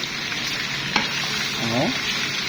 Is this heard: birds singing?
no